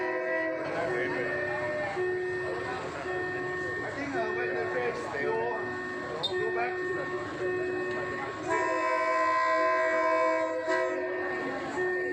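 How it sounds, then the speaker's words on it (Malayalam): A train horn sounds in long steady tones over a busy crowd murmur at a Bangkok train market, swelling louder near the end as the train draws closer through the stalls. "ട്രെയിൻ വരുന്നുണ്ട്"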